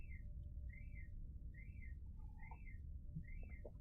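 Pet birds chirping indoors, a steady series of five repeated whistled calls at a regular rhythm with a few softer chirps in between, faint over a constant low background hum.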